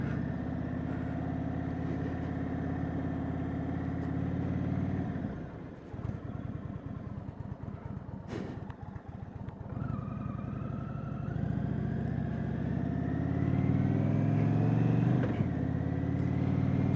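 A Springfield Darkhorse motorcycle engine runs steadily and close, rumbling at idle, dipping briefly mid-way, then climbing again through revs with a rising whine, with no talk over it.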